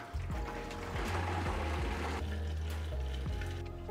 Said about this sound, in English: we'll fill that with really hot water